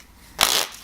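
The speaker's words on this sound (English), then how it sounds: "if you wanted to do, say, a riffle shuffle" A deck of Bicycle Prestige Dura-Flex Blue Edition plastic playing cards is riffle shuffled in one quick, close, bright rasping burst lasting under half a second.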